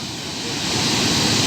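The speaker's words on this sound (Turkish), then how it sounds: "şelaleye geldik. Büyük şelale diye geçiyormuş burası." The large waterfall at Side in Antalya gives a steady, dense rushing roar of falling water that swells slightly louder, with no talk over it.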